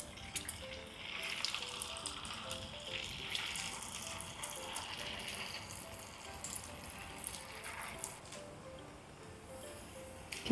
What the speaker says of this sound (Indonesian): Lanjut kita goreng sisanya.